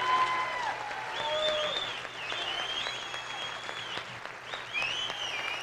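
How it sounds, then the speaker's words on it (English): A crowd gives a sustained round of applause at the USA Pro Challenge start in Durango, steady clapping with a few whistles and cheers rising over it, fairly close and continuous throughout. "can we please have a huge round of applause for all those people that made this possible?"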